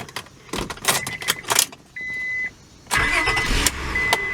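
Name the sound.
1999 Honda Accord engine starting and running, keys jangling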